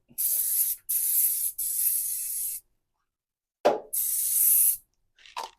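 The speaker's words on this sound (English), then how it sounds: "Make sure I'm not spraying any glue down there." Several sharp hissing bursts of aerosol spray glue, one after another with short pauses, close and loud, then a few soft handling noises.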